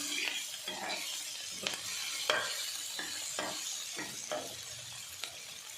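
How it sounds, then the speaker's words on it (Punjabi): Tomatoes roasting in a pan until soft for a taro curry, a low sizzle broken by repeated sharp scrapes and knocks of a spoon stirring at a steady pace, no voices. "ਅਸੀਂ ਟਮਾਟਰ ਨੂੰ ਵੀ ਨਰਮ ਨਰਮ ਹੋਣ ਤੱਕ ਭੁੰਨਾਂਗੇ"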